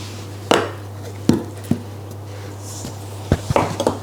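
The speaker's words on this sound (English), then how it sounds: "Using a sharp knife, trim the edges" Sharp knife trimming the pastry edges of an old-fashioned Aussie steak pie, several distinct clicks and taps of the blade against the pie dish rim over a steady low hum.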